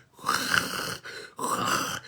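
A voice imitates snoring with two long, rasping, nasal snores, one after the other, close and fairly loud, separated by a brief breath.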